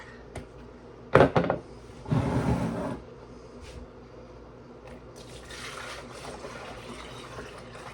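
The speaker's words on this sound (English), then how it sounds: "place it in the hole, and we're good to go to filter the milk" Fresh farm milk pours through a single-use filter set in an insert over an Instant Pot liner, with two quick splashy bursts followed by a longer steady stream, then a faint trickle.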